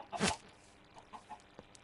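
Chickens in the Minecraft video game give a few short clucks, one louder burst followed by several fainter clucks spaced across the moment, with no talk.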